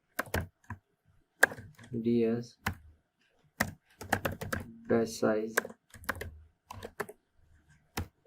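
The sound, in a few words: typing code on a computer keyboard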